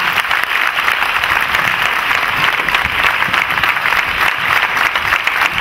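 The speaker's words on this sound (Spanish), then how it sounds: "Un fuerte aplauso." A live audience at a stunt show presentation in Serón breaks into loud, steady applause, dense clapping sustained evenly throughout with no talk over it.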